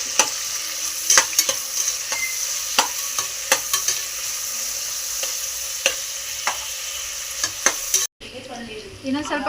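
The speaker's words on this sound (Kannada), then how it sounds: "ಫ್ರೈ ಆದಮೇಲೆ ಈರುಳ್ಳಿ ಸ್ವಲ್ಪ ಬ್ರೌನ್ ಕಲರ್ ಬರೋವರೆಗೂ ಬಾಡಿಸ್ಕೋಬೇಕು" Onions frying in a pan for biryani, a loud continuous sizzle broken by repeated sharp clicks and scrapes of a spoon stirring, close by, ending abruptly near the end as the sound cuts to quieter background.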